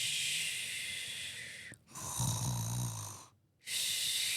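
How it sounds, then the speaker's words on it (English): A person napping snores loudly and close by, in raspy, hissing breaths broken by brief quiet pauses, with no talking. "the first noises that anyone hears out of you is you snoring"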